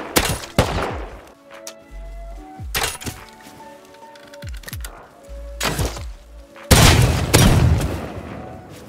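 Gunfire in the survival video game Rust comes as scattered sharp shots and heavy booms, some isolated and some in quick clusters, and ends in a loud sustained blast, with a little talk between shots.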